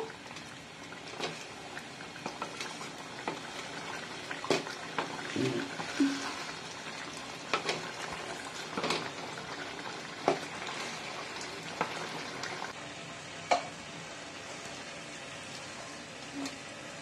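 Fig and potato curry simmers in a pan as its water cooks off, giving a steady low bubbling and sizzle throughout with scattered soft pops and clicks.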